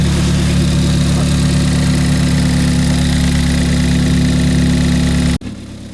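A rebuilt Ford Fiesta ST engine idles steadily with a smooth, even low rumble, then cuts off abruptly near the end, leaving a quieter hum.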